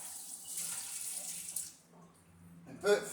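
Water from a wine-making airlock poured and rinsed out at a sink, a steady trickling wash with a brief louder splash near the end.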